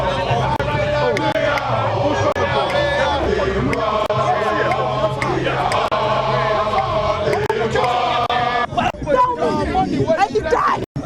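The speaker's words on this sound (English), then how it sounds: "As it starts to get dark, the crowd becomes agitated, demanding the removal of barricades so they can demonstrate in front of the Jubilee House" A restless, agitated crowd of protesters in front of barricades near the Jubilee House at dusk, a dense continuous roar of overlapping shouting and chatter that stays loud throughout, with sharper bursts of shouts near the end.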